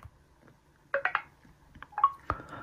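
A few short, soft iPhone interface clicks and tones sound when screen recording starts, two brief clusters of faint digital blips close to the device.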